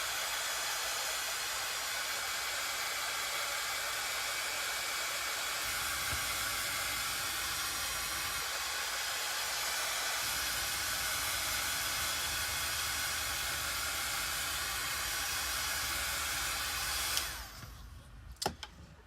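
Hair dryer blowing steadily on painted polka dots for a Dollar Tree Halloween craft, a loud continuous whooshing hiss that runs for most of the clip before cutting off near the end.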